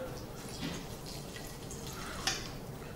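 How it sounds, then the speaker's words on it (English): Water pours into a pressure cooker holding roasted garlic and cauliflower, a soft, steady splashing trickle that is fairly quiet and close, with one brief clink near the end. "I'm just going to add just a hint of water to it."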